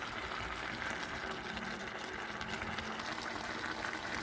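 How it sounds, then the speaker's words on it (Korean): Steady sizzling and crackling of vegetables stir-frying over high heat in a pot, a continuous dense hiss with no speech. "센 불에서 2분 30초 동안 눌지 않게 볶아주세요"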